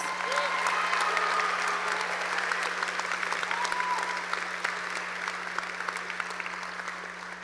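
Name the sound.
graduation ceremony audience applause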